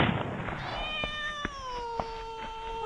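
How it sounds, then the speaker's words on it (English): A cat lets out a long, drawn-out yowl with a falling pitch, heard close and fairly prominent, with a few sharp clicks or thumps in the background. "you killed that poor cat!"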